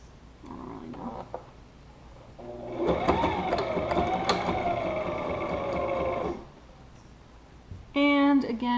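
A home sewing machine whirs for a few seconds as it reinforces the seams of a DIY cloth face mask, a buzzing mechanical run framed by quieter handling and brief talking before and after.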